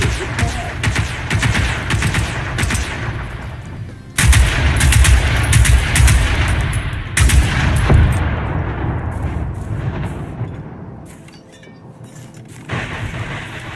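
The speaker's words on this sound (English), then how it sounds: "Remember the mortars? Uh-oh. You okay, ready? 3, 2, 1, fire." Mortar fire and explosions in the video game Generation Zero, loud repeated blasts and rattling gunfire bursts that swell and fade over several seconds, with a brief lull before another burst.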